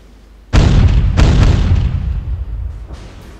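Heavy battleship artillery booms in a naval combat game pitting a Yamato against an Iowa: a loud blast after a brief quiet, then further shell bursts and impacts rumbling on and slowly fading.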